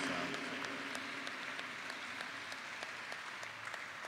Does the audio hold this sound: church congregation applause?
yes